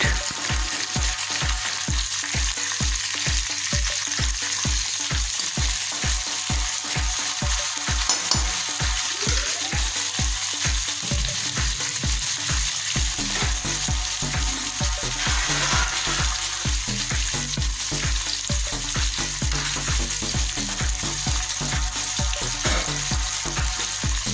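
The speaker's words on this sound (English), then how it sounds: "Now add garlics in a pan and fried it." Garlic fries in oil in a pan with a loud, dense, continuous sizzle and crackle, steady throughout, up close and with no voices.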